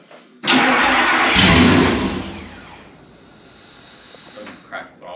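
A turbocharged car engine cranks and catches abruptly, roaring loudly for a second or two before settling into a quieter, steady idle, with a brief blip near the end.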